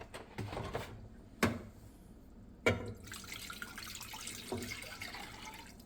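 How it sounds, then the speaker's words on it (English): Regular distilled vinegar being poured from a container into a pot and spilling in a home kitchen while making pickled peppers, with a few sharp knocks and clatters followed by a soft, faint splashing trickle. "We're going to do 2 cups of vinegar, not the apple cider, just the regular distilled vinegar."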